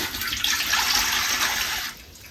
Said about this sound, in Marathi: हे एक तांब्या भरून मी पाणी घेतलेले एकदम किनारी बरोबर पण नाही थोडस कमी तर ही पाणी ह्याच्यात घालायचं